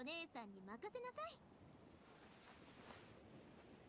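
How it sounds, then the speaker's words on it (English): Ocean waves wash in steadily near the sea in a video game, a soft, continuous surf that follows a brief voice at the start. "It's near the sea, so I hear the calming sound of waves."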